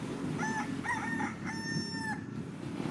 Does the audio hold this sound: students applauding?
no